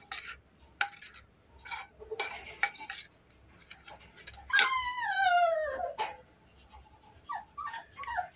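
Hungry puppy about to be fed Royal Canin food whimpers close by, with one long, falling, drawn-out whine in the middle, amid light clinks of a bowl and utensils and scattered small yelps.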